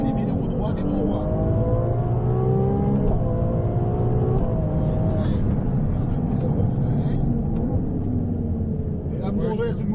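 A Ferrari 296 GTB accelerates on track with a loud engine note rising through the gears in repeated upward sweeps. Close, continuous cabin roar, with voices talking over it.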